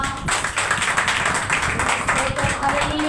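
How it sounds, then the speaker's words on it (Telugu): Congregation clapping during a Saturday night prayer service, a steady run of many hands striking together with a voice audible underneath. "చప్పట్లు పడదామా?"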